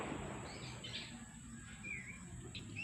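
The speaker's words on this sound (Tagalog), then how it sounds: "magpatukaan ng aking alagang kalapati at hapon na" Soft pigeon calls and chirps sound now and then over a low, steady background rumble, with a few brief higher tweets near the end.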